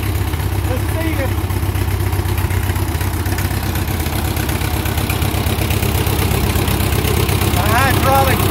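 A Ford 660 tractor engine idles steadily and loudly up close, running without a muffler, a continuous low chugging throb throughout with faint voices in the background.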